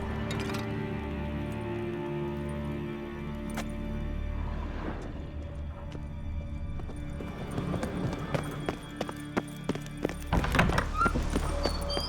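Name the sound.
horse in The Witcher 3 video game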